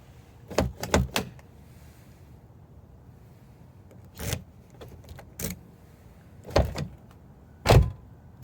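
Nissan Micra door lock and handle clack as a newly cut spare key is tried on the car: a few sharp close clicks and clunks in bursts separated by quiet gaps, with no talking.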